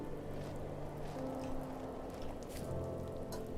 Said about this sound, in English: Is it raining now?